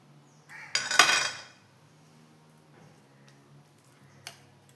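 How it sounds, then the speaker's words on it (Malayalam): Boiled sweet potato is mashed by hand in a pan for vada, one short squelching, clattering burst close by, then quiet with a single faint tap. "മിക്സിയിലൊന്നും ഇട്ടിട്ടൊന്നും ഉടക്കുന്നില്ല, ഞാൻ ഇതിൽ തന്നെ ഇട്ടിട്ടാണ് ഉടച്ചെടുക്കുന്നത്"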